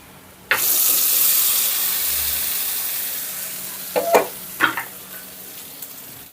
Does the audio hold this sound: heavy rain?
no